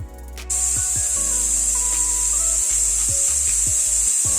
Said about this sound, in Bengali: প্রেসারটা লাগিয়ে দিলাম। একটু শোষো সিটি পুরো পড়বে না, একটু শোষো আওয়াজ করলে বন্ধ করে দেবো।